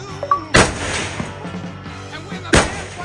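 Two sharp, loud AK-47 rifle shots ring out about two seconds apart at a Vietnamese shooting range, each a hard crack with a brief echoing tail, over faint background noise.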